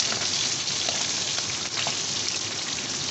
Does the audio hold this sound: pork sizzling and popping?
yes